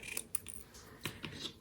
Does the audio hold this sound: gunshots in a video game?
no